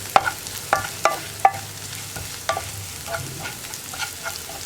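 Sliced onions sizzle in a pan for carrot and raw banana mezhukkupuratti, with a soft frying hiss under a few sharp scrapes and clinks of a spoon stirring, irregular and close by.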